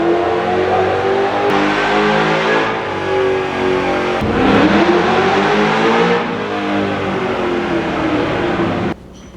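A 1000 horsepower trophy truck engine revs hard on a chassis dyno, loud rising and falling pulls in several sweeps close by, then cuts off abruptly near the end.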